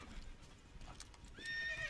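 Cavalry horse in the Forgotten Hope war game, with steady clip-clop hoofbeats throughout and a brief whinny near the end, moderately close and without talk.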